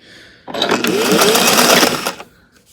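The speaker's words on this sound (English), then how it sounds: "And then you begin to sew." A sewing machine stitching stretch fabric for an inflatable suit, one loud close burst of rapid whirring stitches lasting under two seconds, starting and stopping abruptly.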